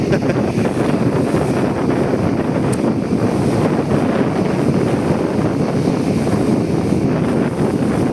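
Strong wind gusts on open water at sea roar steadily and loudly across the microphone from a boat, a dense unbroken rush with some wash of waves beneath and no voices.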